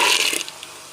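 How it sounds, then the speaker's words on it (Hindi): Boiled water is poured into masoor dal (red lentils) with spices, a short splashy gush that trails off into faint drips and settling water. "अब इसमें बॉयल किया हुआ पानी शामिल करेंगे।"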